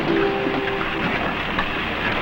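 A train runs on rails with a steady, close rumble and a faint rhythmic clatter underneath, no voices heard over the continuous noise.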